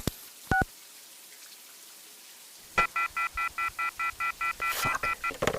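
Telephone keypad dialing: a couple of isolated tones, then a quick, evenly spaced run of about a dozen touch-tone beeps, close and clear over a quiet room.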